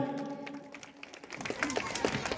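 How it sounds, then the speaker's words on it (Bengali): A scattered ripple of audience clapping at a Durga Puja club inauguration, light and uneven, building slightly over a couple of seconds beneath a faint background murmur. "আপনারা একটু করতালি দিন"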